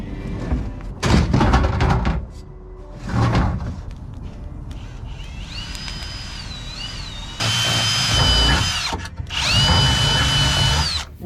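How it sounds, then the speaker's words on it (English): A power drill whirs in several bursts, drilling 1/2-inch holes on an airboat, with thuds and handling knocks between runs; the motor revs up and winds down repeatedly at close range. "Drill these holes to 1/2 inch."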